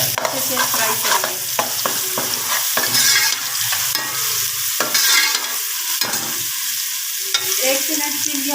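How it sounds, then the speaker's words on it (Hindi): Garlic paste sizzling in oil in a pan while making pea pulao, a loud close crackling fry broken by frequent sharp scrapes and clinks of a spoon stirring against the pan. "और इसके साथ ही हम 1 चम्मच लहसुन का पेस्ट है ये बारीक शामिल कर देंगे और इसको 1 मिनट के लिए अच्छे से फ्राई करेंगे।"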